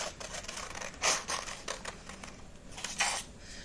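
Scissors cut paper in a quick series of close, crisp snips and rustles, some louder than others, with no one talking.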